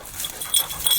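A hunting dog pants rapidly during a pheasant hunt, a quick, breathy rhythm heard close and fairly loud over about a second.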